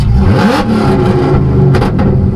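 A Chevrolet ZL1 Camaro, modified to about 940 hp, revs loudly in drag mode with its exhaust fully open, a close, continuous growling roar that surges and falls over a couple of seconds, with no talking.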